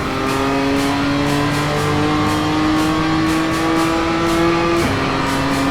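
BMW M2 Cup race car engine in the iRacing simulator at Navarra, holding a steady high drone with a brief dip in pitch near the end, loud and continuous with no talk.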